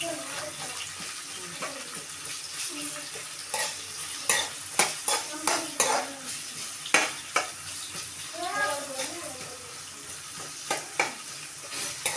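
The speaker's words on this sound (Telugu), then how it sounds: "ఇప్పుడైతే నేను ఫ్రై అయితే చేసుకుంటున్నాను ఇదిగోండి ఉల్లిపాయలు పచ్చిమిరపకాయలు అయితే కోసుకున్నాము" Onions and green chilies frying in a pan, a soft constant sizzle broken by a run of sharp spatula knocks and scrapes, with a voice speaking over it in places.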